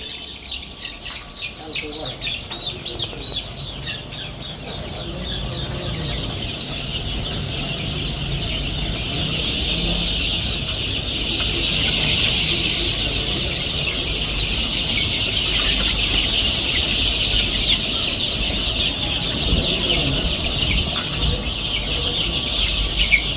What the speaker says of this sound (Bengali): পাঁচটা মুরগিতে ওজন দেন তো কতটুকু আছে